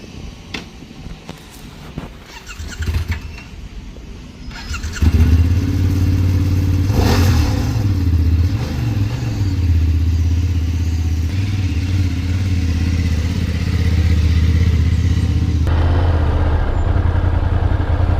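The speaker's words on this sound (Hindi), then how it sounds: "ये मोटरसाइकिल ली है F800 GS, ठीक है।" Light clatter and handling noise, then a BMW F800 GS motorcycle engine fires up and runs loud and close, holding a steady rumbling drone.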